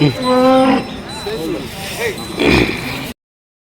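Several cows moo loudly nearby at a weekly cattle market in Punganur, long lowing calls one after another, with market chatter and background noise around them.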